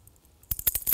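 Keys scrape and clatter in a short burst against an LG G Flex 2 smartphone during a scratch test, following a moment of near silence.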